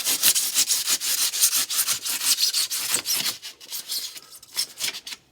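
High-density 2-pound spa foam on a freeze-damaged hot tub is cut and pried with a big flat screwdriver, giving a rapid run of close, scratchy rubbing and tearing strokes that thin out toward the end.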